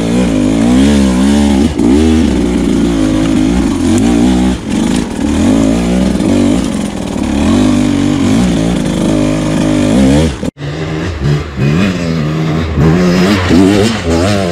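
A new enduro motorcycle accelerates hard, its engine note climbing and dropping through repeated revving surges. The sound is close and loud, with a brief cut near the end before the engine pulls again.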